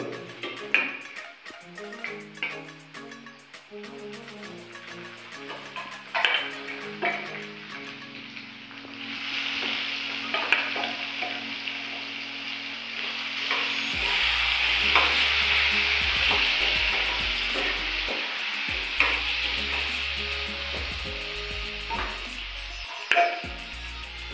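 Boiled pork frying in a wok with turmeric, with scraping and stirring, the hiss swelling into a steady, louder sizzle partway through.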